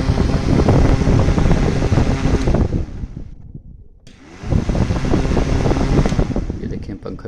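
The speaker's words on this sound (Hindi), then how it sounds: "ये देखें पंखे वाले बिल्कुल ठीक काम कर रहे हैं।" An air cooler fan runs steadily after a switch repair, a loud broadband whoosh that cuts out briefly midway and then starts up again.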